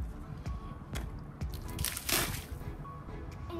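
A toy water gun squirts into pool water, giving a few short wet sloshes and squishy bursts, with a brighter splashy spurt near the middle; all close-up, with no talk over it.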